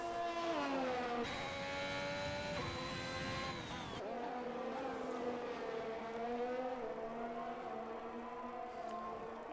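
A racing car engine in a round of a race series in Brazil drones with a sustained revving note whose pitch jumps and dips as it shifts, heard steadily at moderate volume without talking.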